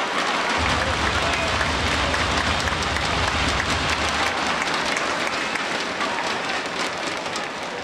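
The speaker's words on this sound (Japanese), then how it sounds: "皆さん両チームの健闘をたたえる惜しみない大きな拍手お願いします" A volleyball arena crowd at a V.Premier League Final 6 match between JT and Toyoda Gosei gives big, sustained applause for both teams, a dense roaring wash of clapping with a low rumble beneath, without a break.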